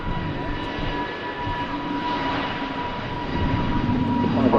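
A Singapore Airlines airliner lining up on the runway at Manchester Airport hums with a steady distant engine drone and faint whine, building a little toward the end, with no talk.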